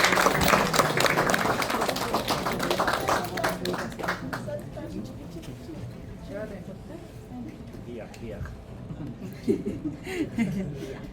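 An audience at a Christian family talk applauds a family: loud clapping for about four seconds fades into a quieter room where voices talk, with a few scattered claps later on.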